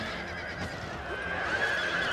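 Horses whinny and neigh amid the din of a Last Alliance Total War video game battle, a loud continuous wash of cavalry noise with hooves clopping underneath.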